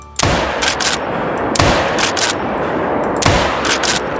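Hunting rifle shots in the game Call of the Wild crack sharply three times, evenly spaced and loud, each followed by a brief rumbling tail.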